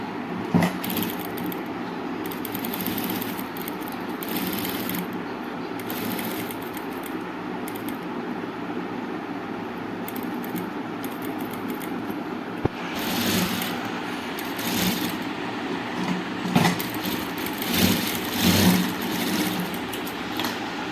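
A sewing machine stitches the curved edge of a top made from a nighty, running in repeated bursts of fast close mechanical whirring separated by short pauses, with no talking.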